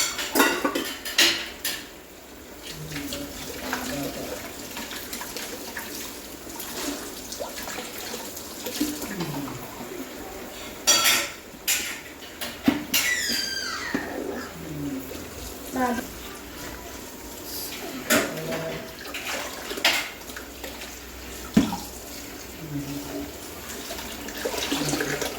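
Dishes being washed under a running tap: steady water flow with frequent clinks and clatters of pots, plates and cutlery throughout, and a person talking intermittently over the washing.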